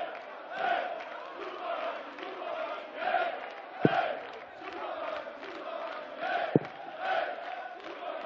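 A buoyant German crowd at a darts open chants in a rhythmic, repeating pattern, a loud, massed roar rising and falling with a couple of sharp claps or thuds in between.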